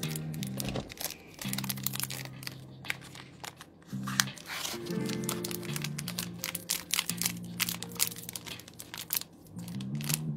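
Pokémon TCG Vivid Voltage booster pack wrapper torn open by hand, a dense run of crinkling foil and tearing crackles close up, with a low steady drone underneath.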